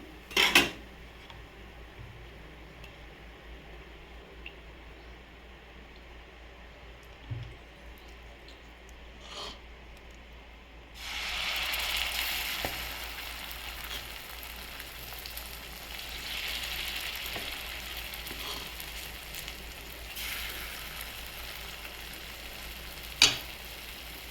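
Dosa batter poured onto a hot pan for bun dosa; quiet clinks of cookware come first, then a broad steady sizzle starts abruptly and continues close by, ending with a sharp metallic tap.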